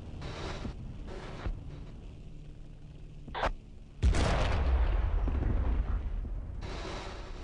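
Ship cannons fire in Battlefield 1942 on Iwo Jima. A sharp blast sounds mid-clip and is followed by a heavier, booming report that rolls on loudly as battle noise continues around it.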